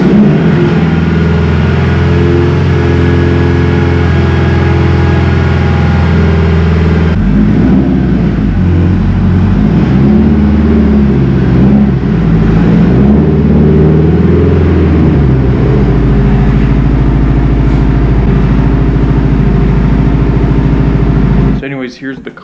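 Honda S2000 engine running loud and close as the car is driven into a garage, a steady low drone that shifts in pitch partway through and cuts off at the end, with a voice over it.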